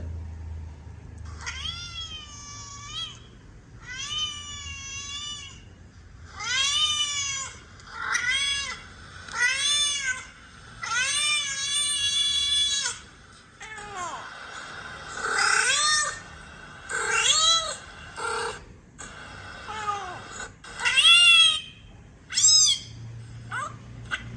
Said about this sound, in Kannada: ಇದಕ್ಕೆ ನಾನೊಂದು ಕ್ಯಾಟ್ ಸೌಂಡ್ ಹಾಕಿ ತೋರಿಸ್ತೀನಿ ಏನು ಮಾಡುತ್ತೆ ಅಂತ ನೋಡೋಣ